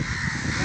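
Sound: crows cawing

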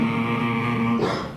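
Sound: storyteller imitating a dog barking

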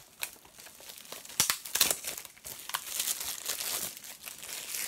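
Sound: unwrapping plastic film from a Blu-ray case

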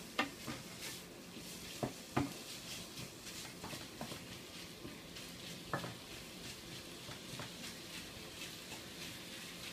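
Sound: minced pork frying in electric pan

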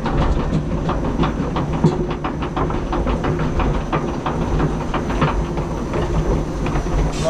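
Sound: roller coaster ride, Toffifee Kopalnia Złota at Energylandia

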